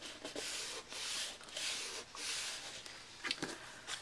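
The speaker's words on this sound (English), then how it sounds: "Just burnish it." Folded paper card pressed closed over adhesive and burnished by hand, giving several soft, close rubbing strokes in bursts of scraping friction, alone with no talk.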